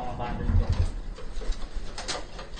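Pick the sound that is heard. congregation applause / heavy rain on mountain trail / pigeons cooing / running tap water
pigeons cooing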